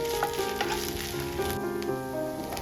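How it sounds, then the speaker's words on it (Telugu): Ginger-garlic paste frying with fenugreek leaves for mutton keema, a steady close sizzle with occasional stirring scrapes and a faint tonal hum in the background, no voices. "ఇది వేసుకొని పచ్చివాసన పోయేంత వరకు వేయించుకోవాలి."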